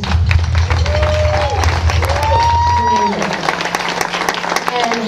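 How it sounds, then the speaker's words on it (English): An audience claps for a female musician at a summit for women musicians, scattered hand claps and crowd noise mixed with voices and ringing tones, loud and close. "Please give her a round of applause"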